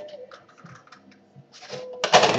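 A few crisp snips of scissors cutting through paper, close up, after some quiet handling noises.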